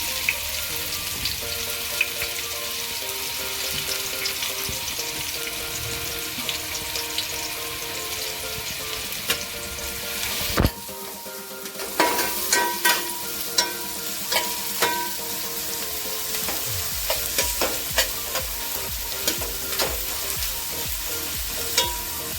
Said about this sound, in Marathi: साधारण हे कांदा जे आहे गोल्डन होईपर्यंत परतून घ्यायचं आहे आपल्याला